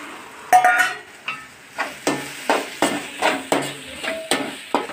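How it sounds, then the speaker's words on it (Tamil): Ginger garlic paste sautés with tomatoes in a pan, heard as close, rhythmic scraping strokes of a spatula about once every half second over a light sizzle, with no voices. "இப்போ பிடிச்சி வச்ச இஞ்சி பூண்டே நம்ம போட்டு நல்லா வதக்கியிருக்கலாம்"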